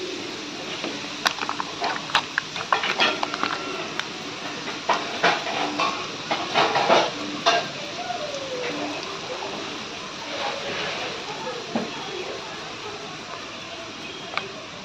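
Boondi, small drops of gram flour batter, frying in hot oil with a bubbling hiss and scattered crackles and taps, busier in the first half and settling later, close by.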